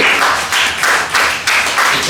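A youth group at a church gathering claps in a brief round of applause, dense hand claps arriving in rhythmic pulses, loud and close.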